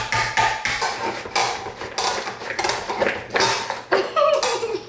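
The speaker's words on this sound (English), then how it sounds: "we don't have a can opener, so we open everything with a knife" A kitchen knife stabs and pries at a metal can in a series of sharp metallic clanks and scrapes, roughly a dozen irregular bursts close up, with no talking.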